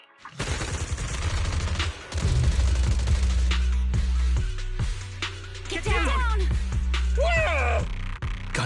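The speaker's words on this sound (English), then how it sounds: "Gunfire? This pattern. Suppressive marching fire." Suppressive marching gunfire in the video game Zenless Zone Zero, dense overlapping bursts of shots and booms, loud and continuous, with game music and a character's voice heard over them.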